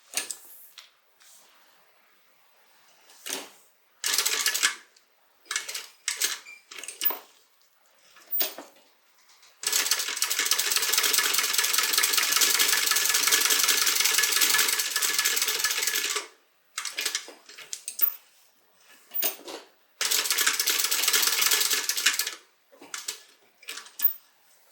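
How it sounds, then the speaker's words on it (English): A sewing machine back stitches across the bottom of a crossbody bag in several rapid bursts, with one long steady run and another extended stretch, separated by short pauses and light handling clicks. "We're going to back stitch across this bottom."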